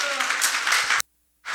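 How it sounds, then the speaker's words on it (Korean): Audience applause at a lecture by a Seoul High Court judge, a second of broadband clapping that cuts off abruptly into silence before sound returns. "이게 맞으면 박수 부탁합니다."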